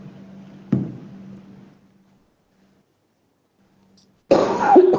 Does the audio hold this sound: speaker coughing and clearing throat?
yes